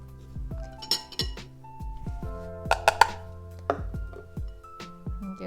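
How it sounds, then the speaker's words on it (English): Mashed tofu and pancake mix stirred together in a bowl: repeated utensil clinks and knocks against the bowl in an irregular rhythm, close and fairly loud, with no one speaking. "And give that a good mix."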